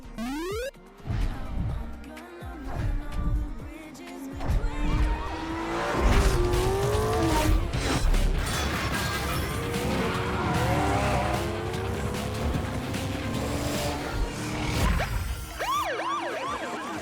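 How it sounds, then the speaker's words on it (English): Street racing in NFS Most Wanted (2005), with sliding, squealing tires and revving engines over a wailing police siren, busy and loud throughout, no talk. "Revving up at number 22 on my list is NFS Most Wanted 2005, a game that set the bar for street racing and car culture."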